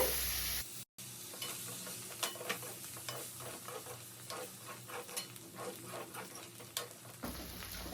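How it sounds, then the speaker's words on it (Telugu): Chicken deep frying in a pan over a full flame, a steady close sizzle with scattered clicks and scrapes of stirring running for several seconds after a brief pause. "ఇక ఇప్పుడు స్టవ్ ఫుల్ చేసేసి దీన్ని బాగా మాడగొట్టాలి"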